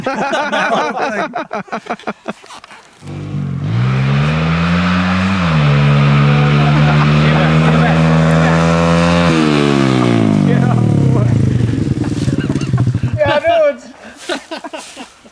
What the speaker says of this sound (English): it sounds like you got a 450 coming in hot